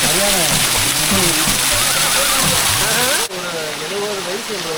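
Ayyanar Aruvi waterfall pouring down in a loud, continuous rushing splash that fills the space. People talk throughout, close by, over the roar of the water.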